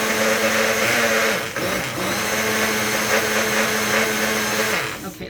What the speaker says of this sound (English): One-speed blender might take a little bit.